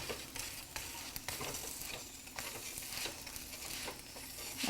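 Indian flatbread cooking on a griddle with oil or ghee, a quiet steady sizzle and crackle with occasional soft taps.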